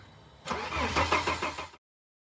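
A 2005 Sprinter van's engine, fed with propane through the intake, cranks in a rapid rhythmic churn for about a second, then cuts off abruptly, heard up close.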